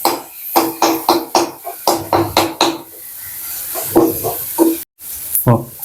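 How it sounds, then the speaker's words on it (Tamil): Ingredients for fish gravy sautéing in a pan, a rhythmic run of spoon strokes and scrapes, loud and close, pausing midway and resuming with a few more stirs. "நல்லா வதங்கட்டும்"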